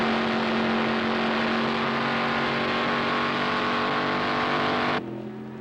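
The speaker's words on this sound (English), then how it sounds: "The Goodrich Corvette is capable of speeds of over 200 miles an hour on the Mulsanne Straight." The Goodrich Corvette race car at Le Mans in 1973 roars at high speed with a steady, loud engine drone that holds for several seconds before cutting off sharply into a quieter hum.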